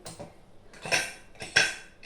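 A perforated metal plate clinks and clatters against a pot of drumstick sambar in a few sharp, ringing knocks spread over two seconds, close by and otherwise quiet.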